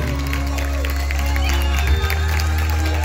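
Guests clap and cheer for the birthday girl after her quinceañera waltz, sustained applause over loud low music and room noise.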